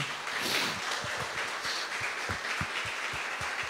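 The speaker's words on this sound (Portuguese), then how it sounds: "Vamos aplaudir ao Senhor por esta igreja?" Church congregation applauding during a service, scattered claps over a noisy room wash, with distinct individual hand claps growing more rhythmic and evenly spaced in the second half.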